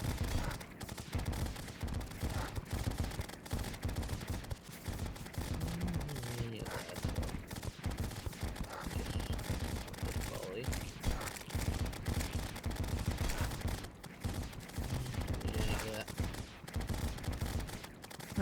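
Rapid continuous bursts of laser weapon fire in Terraria with the Calamity Mod, a dense unbroken stream of zapping shots with game effects layered on top throughout.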